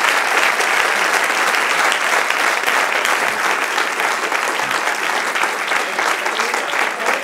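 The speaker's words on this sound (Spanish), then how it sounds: "Dale un aplauso al Señor." A church congregation applauds, a dense, loud and unbroken wash of many hands clapping together that holds steady throughout.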